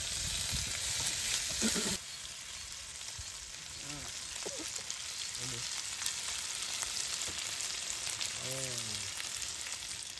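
Garlic sizzles and crackles in a hot pan at a family campsite in La Trinidad, Benguet, before pork tapa goes in; steady frying hiss, with a few short voices and kitchen clinks nearby.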